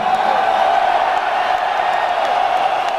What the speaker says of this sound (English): I think it's the biggest crowd we've ever had in Chicago